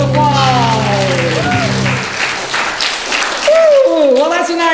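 Audience applause at a children's stage show themed on a trip around the world, a steady wash of clapping with cheering and voices over it, plus a tonal musical or sung line running through.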